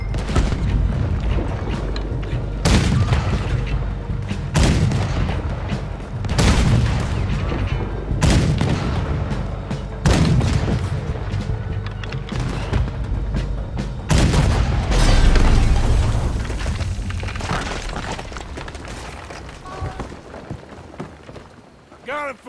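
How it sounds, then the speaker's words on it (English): Cannon fire in the Red Dead Redemption 2 video game booms repeatedly in a chaotic battle, heavy blasts every second or two over a dense rumbling din of gunfire and commotion. "Get that cannon out there!"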